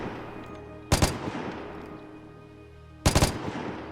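Two short bursts of automatic weapon fire with recoil in the video game Vigor, each a quick cluster of three or four sharp, loud shots about two seconds apart over a quiet background.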